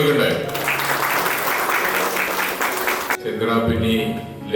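Crowd applause at a Lions Club Onam food-kit distribution for families, a dense sustained clapping that stops abruptly, followed by a room with a voice and murmuring.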